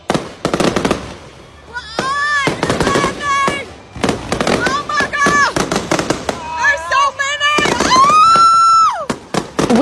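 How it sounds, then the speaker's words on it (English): Fireworks go off in rapid crackling and popping bursts, with whistling shots rising in pitch, loud and close, while people shout and scream throughout. "Fireworks gone wrong."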